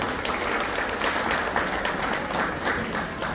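Audience applause at a Shivjayanti event talk, a dense steady burst of many hands clapping at an even level throughout.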